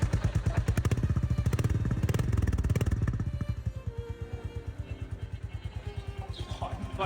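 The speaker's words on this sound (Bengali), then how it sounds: "এটা আমরা চাবি ইন করলাম মাত্র। আর এটার মেইন ঘটনা হচ্ছে এটা আমরা স্টার্ট করবো" A new motorcycle idles just after being started, its engine giving loud, close, evenly spaced thumping pulses that ease slightly in strength partway through.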